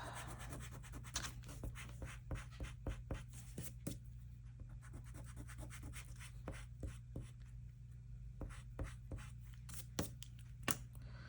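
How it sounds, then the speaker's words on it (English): A pencil line being erased on paper while making mini envelopes, with a long run of soft, rhythmic rubbing and scratching strokes, close and quiet over a low background hum. "I erase the line I made at the top"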